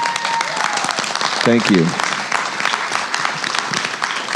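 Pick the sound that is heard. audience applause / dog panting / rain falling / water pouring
audience applause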